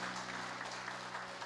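A church congregation claps together in a steady dense patter, faint and distant, with a low hum underneath and no voices.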